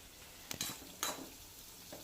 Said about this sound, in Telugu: ఇంకొంచెం సేపు ఫ్రై అవ్వాలి. మీడియం ఫ్లేమ్ కాబట్టి స్లోగా కావాలి.